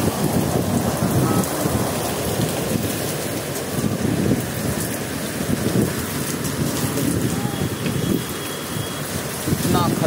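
Heavy rain pours steadily in Lucknow in a dense, continuous roar, with a low rumble beneath it and no break throughout.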